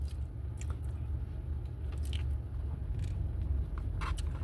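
Someone chews a McFlurry ice cream loaded with crunchy mix-ins, soft biting and crunching up close over a steady low rumble like a car interior, with no talking.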